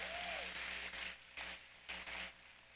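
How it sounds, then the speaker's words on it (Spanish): A church congregation at a Sunday service claps in waves of applause that surge and fade. The clapping is faint and distant, and a brief voice is heard near the start. "Alguien dale un aplauso al Señor."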